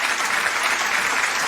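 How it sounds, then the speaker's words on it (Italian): A studio audience claps steadily and loudly on an Italian radio-TV show, a dense unbroken wash of applause with no pauses. "Facciamo un forte applauso."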